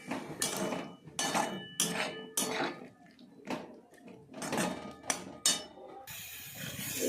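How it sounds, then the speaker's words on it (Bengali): Spiced vegetable curry with ground cumin and a splash of water being stirred and fried in a pan, a spoon scraping and knocking against the metal in repeated strokes, close and fairly loud with no talking. "জিরে গুঁড়ো দিয়ে দিলাম একটু জল দিয়ে কষে নেব।"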